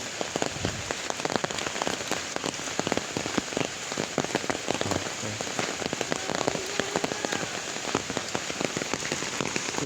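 Rain pattering steadily on an umbrella overhead while walking alone along a tea garden road in a Khasia village near Jaflong, Sylhet; dense, close, crackling drops with sharper individual hits throughout, no voices.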